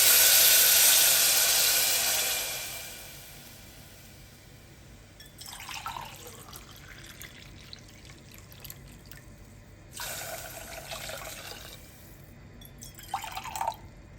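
Water is poured into a cooking pot of rice and lentils for Coimbatore-style paruppu sadam. A loud, rushing pour lasts about two seconds, then quieter splashes and drips come in short bursts.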